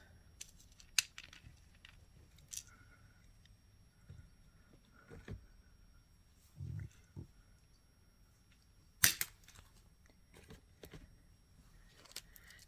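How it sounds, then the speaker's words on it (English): Wire cutters snip a length of jewelry chain for a pink beaded necklace, giving a few sharp, isolated clicks and clinks close by amid faint handling rustle and quiet gaps. "So we'll get another 12 inches of chain out, cut that baby off."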